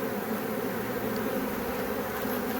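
A steady, dense buzzing of many honey bees from a recently caught swarm drones continuously at moderate volume, with no voices.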